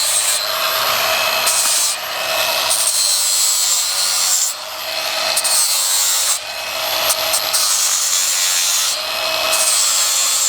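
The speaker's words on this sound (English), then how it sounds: "So what he's doing is sanding down all the rust spots." Steady abrasive rubbing as rust spots are sanded off a farm sprayer boom, a continuous close scraping broken by brief pauses about every two seconds, with no talking.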